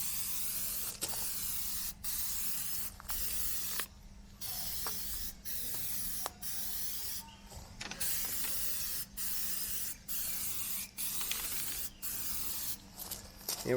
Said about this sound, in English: Here we go on the second coat on the other headlight.